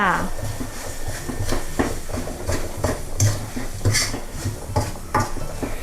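Sugar and a little salt are stir-fried in a pan for a Thai chili stir-fry, giving a steady close scraping and clinking of a utensil against the pan with soft sizzling, with no talk.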